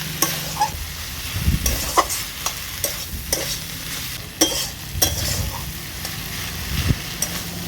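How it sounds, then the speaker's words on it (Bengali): Kalmi greens and vegetable ghonto are stirred in a pan, with a spatula scraping and tapping at irregular intervals over a soft sizzle, close by. "এগুলো আমি আরেকটু ভালো করে নাড়াচাড়া করে নিচ্ছি, যাতে সব কিছু ভালোভাবে মিশে যায়।"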